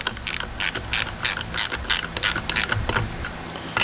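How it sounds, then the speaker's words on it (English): A hand ratchet tightens two bolts on an LS V8 engine during a valve spring job, clicking rapidly and steadily up close with short pauses between strokes and no voices. "I'll just tighten up these two bolts right here."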